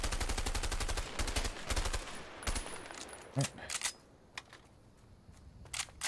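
SMG gunfire in the video game A Way Out: rapid repeated shots in bursts over the first few seconds, loud and close, then a few scattered single cracks and quieter game sounds.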